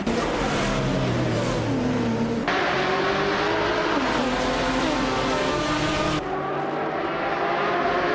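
Race cars including a 24 Porsche Carrera GTR racing at Mid-Ohio without the chicane, loud, close engine roars with rising and falling revs through gear shifts, sustained throughout with abrupt changes in engine note.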